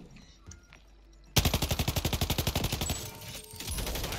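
Automatic gunfire in Call of Duty Warzone on Rebirth Island, a loud rapid burst of evenly spaced shots starting abruptly after quiet and running for about two seconds, then fading into lingering game noise.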